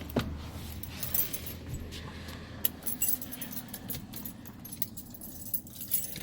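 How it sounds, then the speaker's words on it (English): Keys jangle continuously as they are pulled from the ignition of a 1986 Ford F250 with a 460ci 7.5L V8, a close, bright metallic rattling that runs throughout with small clinks and shakes. "Let's see if I can pull the keys out real quick."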